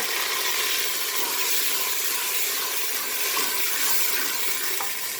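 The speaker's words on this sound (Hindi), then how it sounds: "अब इसमें 1 गिलास पानी डाल दूँगी।" A glass of water poured into a cooking pot of lightly fried onions while making arvi gosht, a steady, full rushing splash that holds evenly for about five seconds with no talking.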